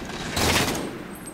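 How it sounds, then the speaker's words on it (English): Gunfire from a weapon in Halo: The Master Chief Collection, a single loud burst of shots that rings out and fades quickly, heard alone. "just gonna run around firing the gun."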